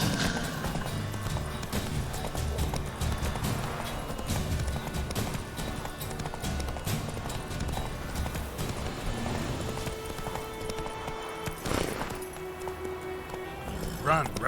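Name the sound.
Roach the horse galloping in the video game Witcher 3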